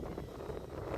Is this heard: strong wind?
yes